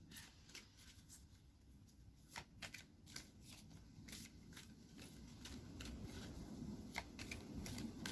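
Oracle cards being shuffled by hand, a soft papery riffling and flicking that repeats in quick bursts, close and quiet against a faint steady background.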